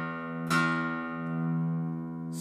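A 2018 Headway HD-280 A.M Custom acoustic guitar sounds a plucked low bass note that rings out with a rich, sustained, slowly fading tone, close and clear with no talking over it.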